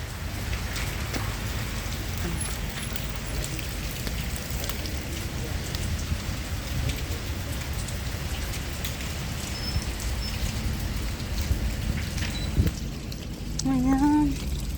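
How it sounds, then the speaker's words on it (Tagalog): Steady rain falls in Kuwait throughout, a dense continuous patter on surfaces, with a brief tonal sound rising near the end. "Ayan guys, ulan talaga."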